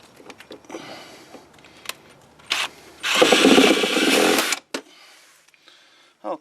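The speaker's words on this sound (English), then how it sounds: "Let's go ahead and drill a hole about right here." Short bursts of a power drill whirring, with one longer, louder burst drilling a hole for a fender flare on a Jeep Grand Cherokee in the middle, close by, between quieter handling noises.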